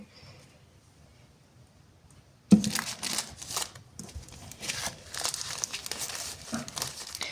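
After a quiet start, paper packaging crinkles and rustles close by, with continuous scrunching and tearing sounds as it is unwrapped.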